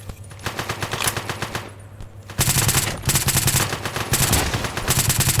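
Rapid bursts of video game automatic machine gun fire rattle continuously, loud and close, with a brief pause before a denser, heavier stretch of firing.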